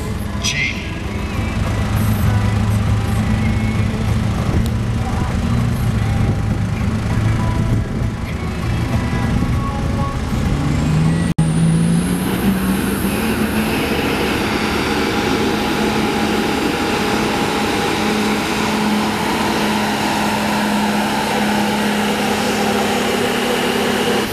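A modified diesel truck runs at a truck pull, its engine droning loudly and steadily, then sweeping up in pitch as it revs and pulls away. The roar carries on in a sustained, open-air way, with faint crowd or announcer noise under it.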